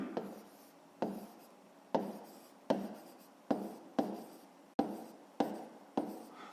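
Pen or chalk writing out the given conditions of a school maths problem, a steady series of about ten short scratchy strokes, each starting sharply and trailing off, quiet and close with no voice.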